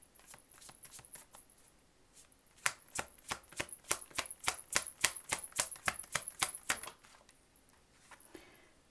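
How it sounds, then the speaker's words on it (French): Six cards drawn from a second tarot deck are laid down in a steady run of sharp, close snapping clicks, preceded by a few scattered taps and fading into softer shuffling at the end. "Je vais tirer 6 cartes de cet autre tarot pour voir si on aura plus d'infos ou pareil"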